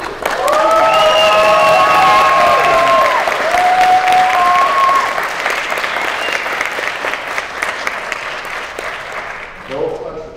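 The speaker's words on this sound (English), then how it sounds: "I would like you to give a big round of applause to this highly addicted team" Audience applause for a machine-learning competition team at a global scientific finals event, a loud sustained clatter of clapping with whoops and cheers early on, gradually thinning out over about ten seconds.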